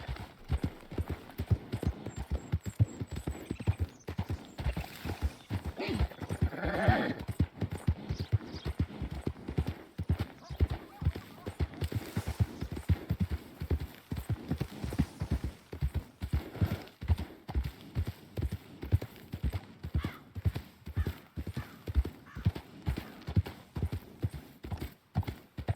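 Hooves of a horse beat steadily in Red Dead Redemption 2, a fast, rhythmic clip-clop of galloping that carries throughout, with a brief whinny early on and faint game ambience beneath.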